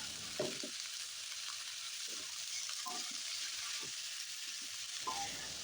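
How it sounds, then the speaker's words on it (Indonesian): Tofu and chopped bok choy stirred in a frying pan, a steady broadband sizzle with several soft scraping stirs of the utensil scattered through it, close and continuous, no voices. "Lalu kita aduk-aduk seperti ini"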